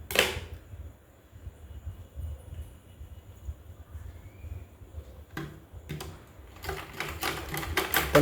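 A sewing machine stitches a cross piece onto a blouse neck in short rapid mechanical bursts at the start and end, with quieter low machine hum between them.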